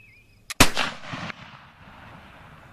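A Hawken .50 caliber black powder flintlock rifle fires: a brief pan flash is followed almost instantly by a loud, sharp boom that rolls off into a fading outdoor echo.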